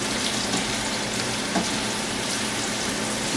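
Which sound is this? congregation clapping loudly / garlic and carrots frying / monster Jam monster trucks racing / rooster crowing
garlic and carrots frying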